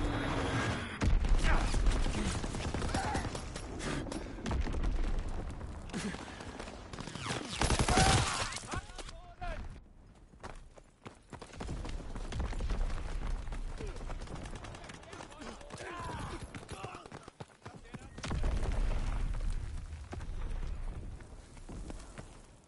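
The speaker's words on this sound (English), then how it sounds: "Enemy bomb incoming. Get to cover." Gunfire and bomb explosions in a video game come in repeated loud bursts of crackling shots and booms separated by quieter lulls, with a voice talking over parts of the action.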